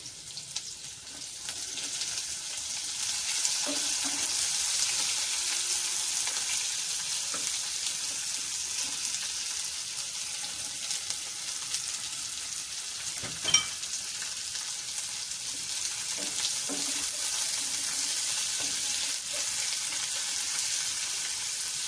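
Chopped onions fry in a pan for cabbage kofta curry, a steady close hiss of sizzling oil with occasional soft clinks and scrapes of stirring, no one speaking.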